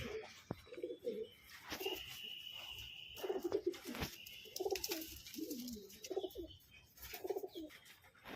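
Barb pigeons cooing in a loft, soft repeated throaty coos in short phrases, close and fairly quiet, with occasional rustles and light knocks around them.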